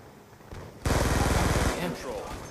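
Gunfire in Black Ops 2, with a sudden loud burst of rapid, rhythmic shots lasting under a second before tailing off into echoes and game noise.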